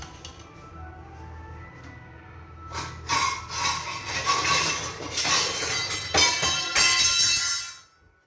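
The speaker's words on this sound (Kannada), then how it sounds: "ಅದಕ್ಕೆ ಈಗ ಒಂದೊಂದೇ ಫ್ರೈ ಮಾಡ್ಕೊತೀನಿ ನಾನೀಗ" Crisp wheat flour biscuits hiss and crackle as they go one at a time into hot oil over a low gas flame; a soft lead-in swells into steady, busy sizzling with faint utensil clinks, then fades out.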